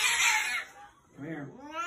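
A frightened cat yowls at the vet, letting out two loud, drawn-out caterwauls close by, the second rising and bending in pitch, while people talk nearby.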